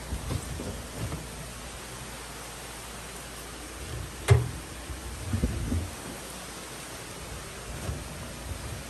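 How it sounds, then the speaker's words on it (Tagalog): Steady rain patters and drips, with a single sharp knock and a few low thumps standing out from the continuous wash. "tingnan niyo oh, ang tulo ng ulan"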